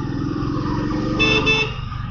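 Busy road traffic in Dharamshala, heard from a Royal Enfield Thunderbird motorcycle: engines drone steadily while a couple of short, bright horn toots sound from nearby vehicles, with no talk.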